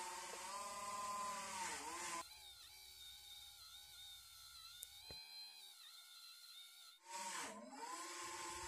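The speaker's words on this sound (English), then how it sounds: "And onto the polisher. Nice bit of polishing with the black." A restored wrench is worked against a bench polishing wheel with black compound, giving a steady whining motor hum with grinding contact noise. It drops away briefly in the middle, then swells back loud near the end, with no talking.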